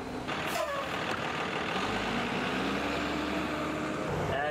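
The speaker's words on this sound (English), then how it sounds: "Oh, look, guys, it's the bus." A bus pulls up with a low engine rumble and a sharp hiss of air brakes, close and fairly loud, with some voices nearby.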